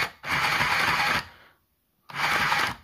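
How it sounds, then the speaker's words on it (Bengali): Electric sewing machine, a low-cost handheld electronic model, stitching in two steady bursts of fast, even buzzing separated by a short silent pause, close and fairly loud with no talk. "সেলাই খুব সুন্দর হচ্ছে"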